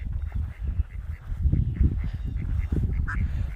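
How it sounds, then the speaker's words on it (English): A mother duck with her ducklings in a planted garden near water gives low honking quacks, moderately close, repeated irregularly over a steady outdoor background. "Mama Duck's got some ducklings."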